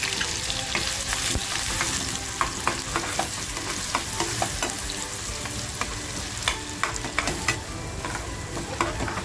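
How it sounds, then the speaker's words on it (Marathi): Onion frying in hot oil in a kadai makes a dense, continuous sizzle close by, dotted with frequent sharp crackles and pops throughout. No speech is heard. "तेल तापल्यानंतर आहे ना आपल्याला कांदा टाकायचा आहे"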